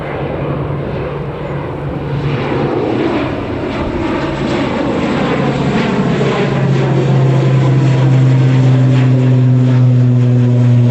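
An aircraft taxis at Newcastle Airport, its engine holding a steady, loud drone with a rising tonal hum as it rolls nearby, continuous throughout.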